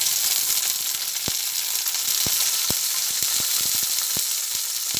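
Tomatoes and curry leaves fry in oil with black mustard seeds and dried red chilli, a loud, steady sizzle punctuated by sharp pops and crackles throughout, with no talking.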